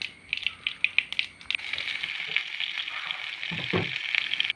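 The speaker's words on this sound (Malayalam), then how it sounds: "ഇനി നമുക്ക് കോവയ്ക്ക മെഴുക്കുവരട്ടി വെക്കാം." An ivy gourd stir-fry frying in a pan gives a quiet, steady sizzle, with a quick run of light clicks and scrapes from stirring near the start.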